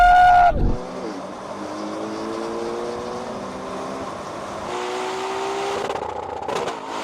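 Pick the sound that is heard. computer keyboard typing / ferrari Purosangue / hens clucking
ferrari Purosangue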